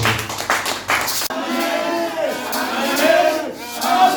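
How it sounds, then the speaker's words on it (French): Church seminar congregation cheering and acclaiming the Lord, a loud dense crowd roar with shouts and some clapping that swells steadily and holds. "pendant qu'il s'élève, nous allons acclamer le Seigneur"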